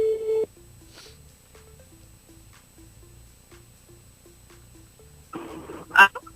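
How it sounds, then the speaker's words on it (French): A telephone line rings out on a radio call-in show, giving a steady run of short, evenly spaced beeps that end in a burst of noise as the call connects. "Elle appelle un petit coup Larissa sur le réseau"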